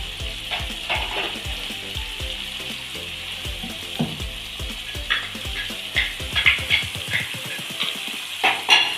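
Marinated fish and masala fry in oil for a fish curry, a constant close sizzle under repeated clinks and scrapes of a spoon stirring the pan.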